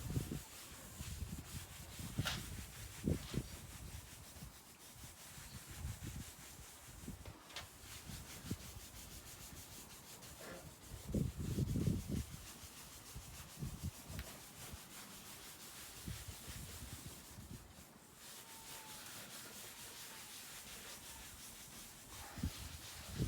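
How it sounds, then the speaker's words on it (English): A fibreglass mould surface is buffed by hand to remove wax residue, giving soft, continuous rubbing and scrubbing strokes, quiet and close, with occasional louder swipes. "just getting all the balls of wax off"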